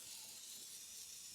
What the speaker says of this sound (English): I'm just going to put some WD here